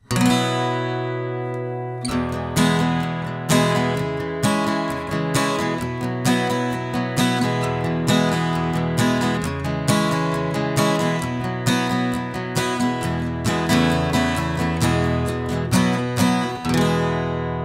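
An acoustic guitar in open E tuning plays a bright, ringing passage with a sustained opening chord, then a busy rhythmic strummed and picked groove.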